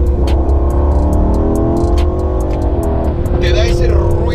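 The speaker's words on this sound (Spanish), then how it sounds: "El V8 totalmente biturbo, no es naturalmente aspirado, pero aún así el coche puede hacer un ruido delicioso" An Aston Martin twin-turbo V8 rumbles loudly and steadily close by, rising into a rev near the end.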